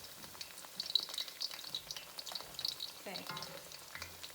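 Eggplant deep frying in hot oil, a soft continuous crackle and bubbling at moderate distance, with light clatter of stirring and a brief spoken word near the end.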